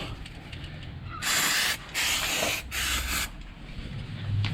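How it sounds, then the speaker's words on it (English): Three bursts of aerosol brake cleaner sprayed near a Morris Minor's wiring during a no-start repair, each a loud steady hiss lasting about half a second to a second, separated by short gaps, with low background hum. "It'll be quick so the brake cleaner doesn't evaporate"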